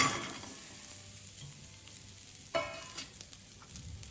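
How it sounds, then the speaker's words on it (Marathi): Almonds, black raisins, figs and dates roast in a kadhai, giving a quiet, steady sizzle. A few louder scraping stirs come near the end. "आता त्या सेम कढईमध्ये मी साधे बदाम, काळे मनुके आणि हे अंजीर आणि खजूर टाकून घेतले"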